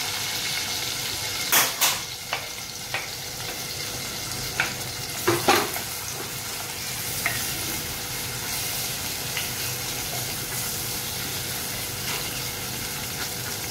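Sliced onion fries in a hot pan for a spinach and radish vegetable dish, with a steady low sizzle throughout and several sharp scrapes and clinks as a spoon stirs against the pan early on, then quieter frying.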